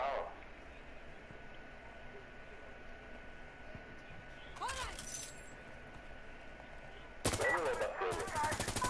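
Video game gunfire from an automatic weapon on a multiplayer map: a short burst near the middle, then a louder sustained rapid volley toward the end, over a steady background hum.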